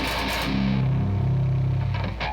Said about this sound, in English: you do have the option to keep the notes drawn out like this